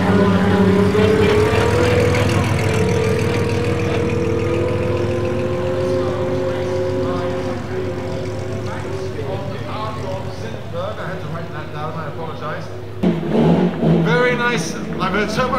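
A 7.4-litre classic sports car idles with a low, steady engine rumble during a concours d'elegance parade at Villa d'Este, heard under continuous talk, with a brief rise in engine noise near the end.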